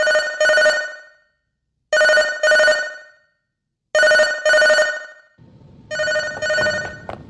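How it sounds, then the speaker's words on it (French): In the video game Catastrophe Crown, a telephone rings in crisp, loud double trills, repeating four times at regular intervals; a low rumble of other game sound sits under the last ring. "Un appel de téléphone sonne, le joueur se précipite, n'arrive pas à répondre"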